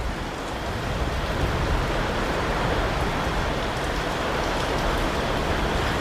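Steady rain pours over farm fields, a dense, even hiss with no breaks, fairly close and alone without voices.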